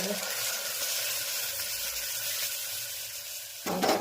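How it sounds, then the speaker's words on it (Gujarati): Steady, loud sizzling of turmeric, chili powder and coriander-cumin powder frying in hot oil as a tempering, a dense crackling hiss throughout, with a brief burst of stirring or added ingredients near the end. "હળદર, ચટણી અને ધાણા જીરું મસ્ત મજાનો વઘાર થઈ રહ્યો"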